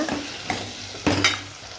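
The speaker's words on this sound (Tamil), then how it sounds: "இப்போ எல்லாத்தையும் சேர்த்து நல்லா வதக்குங்க" Vegetables sauté in a pan, sizzling steadily while a spoon stirs them, with a few scraping knocks against the pan.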